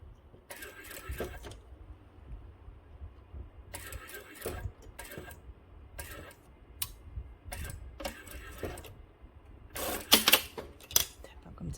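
A sewing machine stitches tiny underpants for a doll's hanbok in short, rattling bursts that start and stop with quiet pauses between them, close by and moderately loud.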